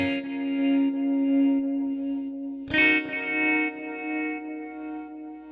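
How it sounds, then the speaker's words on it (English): A sustained distorted electric guitar note with a sweeping auto-filter wah effect, then a fresh strummed chord that rings on, processed and warbling. "This yellow auto filter helps to add a little bit of that wah-wah sound."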